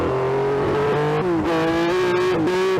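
Loud race car engines roar continuously as the cars race through streets, their pitch rising and dipping as they rev through gears, with no talking over them.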